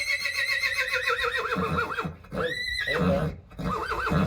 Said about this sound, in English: he's talking to the other horses